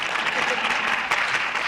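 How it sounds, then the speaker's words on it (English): Clapping rings out during a Return to Africa conference session, a brief run of quick, fairly close handclaps that sounds like a small burst of applause. "He's clapping for himself"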